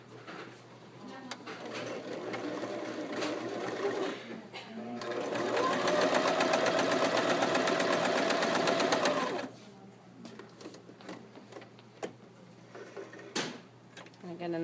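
A sewing machine stitches a second row of temporary gathering stitches along a seam, a loud steady rattle lasting several seconds between quieter handling noises.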